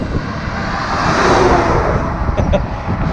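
Steady roar of highway traffic rushing past on a road with no shoulder on a Monday morning, broadband and continuous, swelling slightly in the middle as vehicles go by close.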